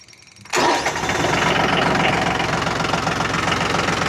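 A tractor engine starts abruptly after a short quiet moment and settles into a steady, loud, rumbling idle as it warms up.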